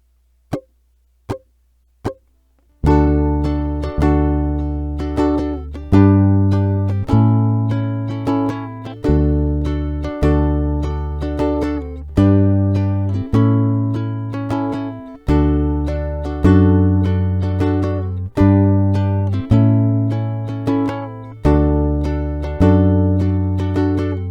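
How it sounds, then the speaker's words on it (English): A U-Bass plays a steady, deep bass line while a ukulele strums chords along with it, preceded by a few short count-in taps, the two instruments sounding together in a clean, close, repeating pattern. "So now let's hear that in context with a ukulele playing along."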